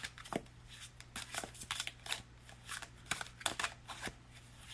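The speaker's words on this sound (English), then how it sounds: "I think these cards just want to be shuffled for like ever." Tarot cards being shuffled by hand in a series of crisp riffling bursts with short pauses between them, close and fairly quiet over a low steady hum, with no talking.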